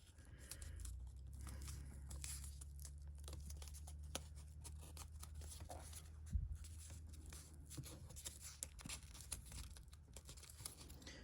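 Origami paper, shaped into the magazine of a folded M16A1 rifle model, crinkles and creases close by in soft, irregular rustles and small crackles, faint over a low steady hum, with one slightly firmer press midway.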